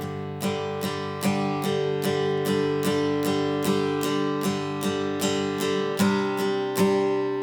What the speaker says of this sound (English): is simply strum eighth note down strums